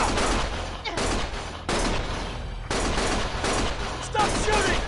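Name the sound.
gunshots in Lost Judgment video game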